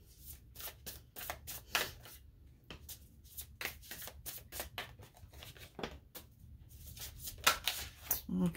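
Message cards are shuffled by hand for a reading, making a run of quick papery riffling bursts and flicks that repeat steadily, close and clear over a quiet room.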